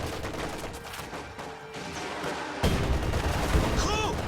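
Anti-tank gun fire in Company of Heroes, with a burst of gunfire and booming shots rising sharply partway through over a dense battle background, with a commentator's voice present.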